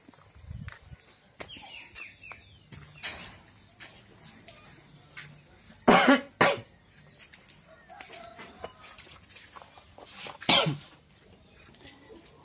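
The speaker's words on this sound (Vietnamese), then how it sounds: "bị ho hoài à, không hết hết cái đồ ho tiếp" Repeated harsh coughing from a person with laryngitis, several loud bursts spread out over a quiet room with faint background movement and birds.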